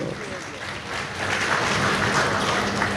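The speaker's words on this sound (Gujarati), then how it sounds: "જોરથી તાળીઓથી અમને વધાવી લો સાહેબ" A crowd at a devotional satsang breaks into applause that swells after a second into dense, continuous clapping, filling the hall at moderate distance.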